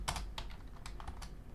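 Quick bursts of typing on a computer keyboard, a few clustered key clicks separated by brief pauses, close-miked and moderately quiet.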